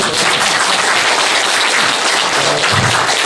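Loud, dense applause from a seated audience at a Buddhist lecture on the Diamond Sutra, continuous handclapping with no talking over it.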